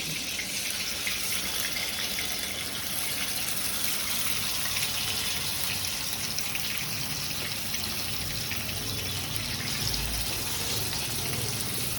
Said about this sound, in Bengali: আমি আগে চিকেনগুলো দিয়ে দিই